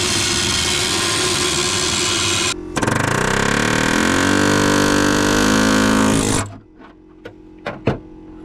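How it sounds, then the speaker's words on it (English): An angle grinder's cutoff wheel cuts out a section of rusted floor pan metal on a Camaro, a loud steady high-pitched whine that drops briefly, resumes, then spins down to a stop, with a few knocks after. "I'm just gonna grab that cutoff wheel and cut some of that floor out"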